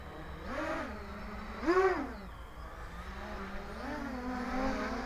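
Electric motors of an XK X350 Air Dancer RC aircraft whine in flight, their pitch rising and falling in several swells as the throttle is worked, fairly close and steady with no talk.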